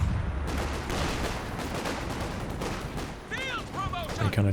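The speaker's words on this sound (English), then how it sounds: "Gonna see some base howitzer fire coming in" Base howitzer artillery barrage in Company of Heroes 2, a dense run of heavy booming impacts and crackling blasts close together, with whistling incoming shells near the end.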